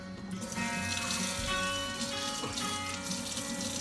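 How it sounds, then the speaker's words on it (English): Tap water runs steadily into a sink as hard bread is wetted for Roman-style panzanella, a close, continuous splashing stream that holds throughout with no voices. "I wet the bread with water."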